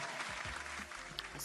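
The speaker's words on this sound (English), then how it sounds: "Round of applause." A short burst of applause from a small group, close and lively, with faint voices and cheering mixed into the clapping.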